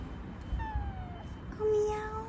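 A tiny calico stray kitten gives two or three thin, rising-and-falling meows, close by and fairly soft over a low background hum.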